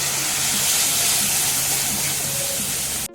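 Water splashed into a pan of frying ginger, onion, garlic and chilli spices sets off a loud, steady steaming hiss that holds for about three seconds before a brief clatter at the end.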